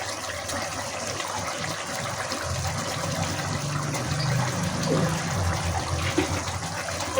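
Raw mustard oil poured into a hilsa fish curry in a pan, a continuous soft liquid gush and trickle that stays steady and fairly faint throughout, with no voices.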